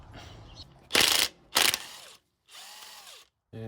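A hand ratchet loosens head bolts on a 1927 Farmall Regular tractor, giving two loud bursts of clicking followed by a fainter stretch of ratcheting, with quiet gaps between.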